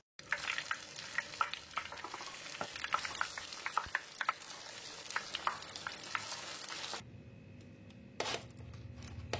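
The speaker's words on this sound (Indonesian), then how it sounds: "Segera angkat dan tiriskan. Dan goreng semuanya sampai selesai." Kerupuk crackers frying in hot oil, a dense steady sizzle with many crackling pops that runs for several seconds, then drops to a quieter hiss with one late burst of crackle.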